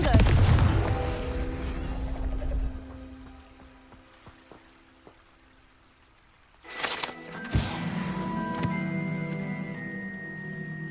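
Confringo blast spells going off in Hogwarts Legacy, a loud burst at the start and another sharp explosive burst later, with quieter rumbling and ringing tones in between.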